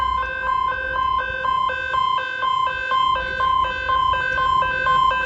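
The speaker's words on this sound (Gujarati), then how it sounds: "જો સાયરન વાગી ગઈ." A siren wails steadily near a fire at a fuel pump in a fast, repeating two-tone pattern, loud and continuous with nothing else audible.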